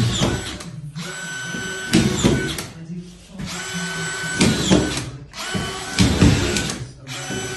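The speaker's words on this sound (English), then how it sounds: "Dewalt plated screw gun. This is loaded with 55mm coarse grade screws, plated screws." A Dewalt plated screw gun driving 55mm coarse-grade plated screws during wall insulation work in a garden room, with repeated loud whirring bursts separated by short pauses, and a voice talking over parts of it.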